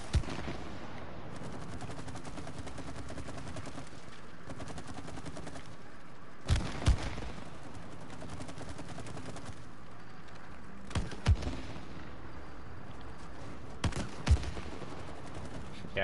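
Gunfire in the It Takes Two video game, with rapid bursts of shots and sharp impacts recurring at intervals over a steady game background, loud and close.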